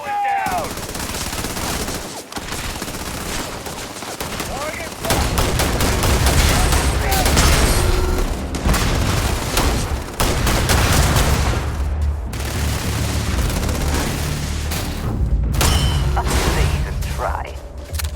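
Rapid bursts of gunfire in a Starfield firefight against robots, loud and dense with machine-gun fusillades and booms over a constant roar, with voices speaking in between.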